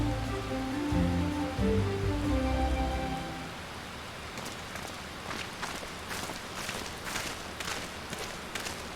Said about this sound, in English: It is raining. We are standing in the rain.